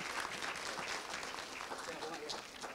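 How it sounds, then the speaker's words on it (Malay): Steady, dense crowd applause fills a university alumni gathering for three award recipients, holding at an even level from start to finish with a faint murmur of voices mixed in. "Berikan tepukan kepada ketiga-tiga mereka."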